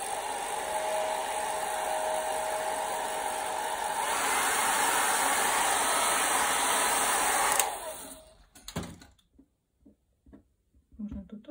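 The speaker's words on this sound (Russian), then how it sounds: "Слышу фен." A hair dryer blows steadily and loudly close by during a watercolour painting session, shifting in pitch partway through, then cutting off abruptly, leaving quiet handling sounds.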